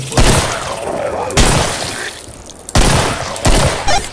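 Pistol gunfire in the zombie shooter Killing Floor: about five loud, sharp shots fire at uneven intervals, each with a brief crack and decay, amid other game noise.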